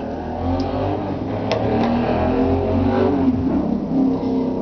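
Car engines rev and drone on a street, rising and falling in pitch, steady and fairly loud, with no talking.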